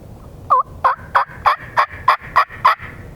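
Wild turkey on public land in Tennessee gobbling in a steady series of eight sharp calls, evenly spaced and fairly close, standing out clearly against a quiet outdoor background with no talk.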